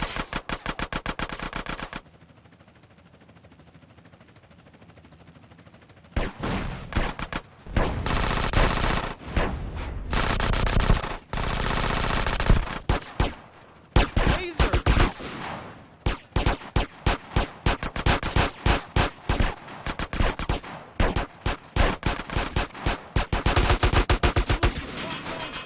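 Rapid automatic gunfire in Grand Theft Auto: San Andreas Definitive Edition, loud dense bursts repeating over and over with brief pauses, sustained machine-gun chatter dominating most of the stretch.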